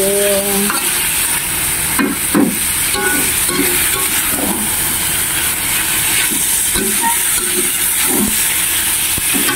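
A dish frying in a pan is stirred, broadband sizzle and hiss running steadily throughout, with repeated scraping strokes of the utensil at irregular intervals, close and fairly loud; no talking.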